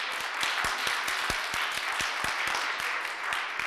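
Applause in a municipal council meeting hall, a steady crowd clapping with sharp individual claps standing out against a dense patter, continuous and moderately loud throughout.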